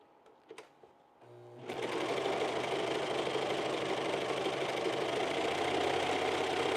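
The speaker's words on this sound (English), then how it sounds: "the serger is always a lifesaver because once you do the edges, like you don't have to worry about it anymore" A serger sewing machine stitches and finishes the edges of skirt fabric, running in a steady, continuous loud whir after a couple of faint clicks.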